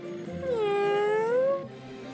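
A black and white cat in a Postman Pat Plotagon animation gives a single clear, drawn-out meow lasting over a second, close and loud, with nothing else sounding.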